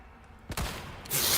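A gunshot in Resident Evil 4 (2023), a sharp single blast followed by a second burst, short and close amid quiet game ambience.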